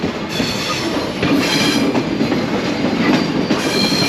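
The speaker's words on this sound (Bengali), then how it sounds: "অল্প সময় পরই ভাঙা থেকে ট্রেন রওনা দিল" The Sundarban Express departs Bhanga station, rolling along with loud, steady rumbling and rhythmic clatter of wheels on rails, heard from close by inside or beside the cars.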